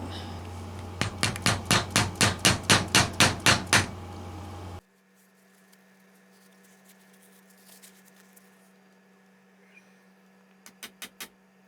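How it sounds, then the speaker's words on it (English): A glued dowel is tapped in with a hammer during a Gretsch Chet Atkins guitar neck reset, a quick run of about a dozen sharp, evenly spaced taps, then quiet, then a short burst of three or four more taps. "I got a couple grooves in this dowel to hold the glue, and we'll tap it in."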